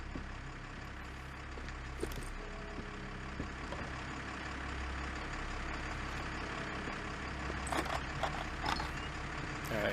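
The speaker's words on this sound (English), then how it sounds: "I hear a truck or something running." Truck engine running in The Walking Dead: Saints & Sinners, a steady low rumble with idling texture that holds for the whole stretch, joined by scattered clanks and knocks near the end.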